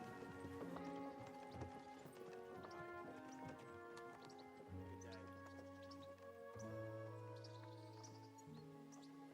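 Horse hooves clip-clopping at a steady walking rhythm in the medieval video game Kingdom Come Deliverance 2, close and continuous beneath a layer of background music.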